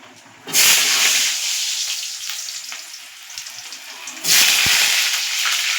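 Potatoes with cinnamon, cardamom, cloves and bay leaf dropped into hot oil in a kadai, a loud sizzle that bursts up, eases, then surges again as more goes in, with no voices.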